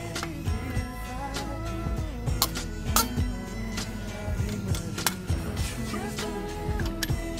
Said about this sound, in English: So let's loosen the lug nuts first.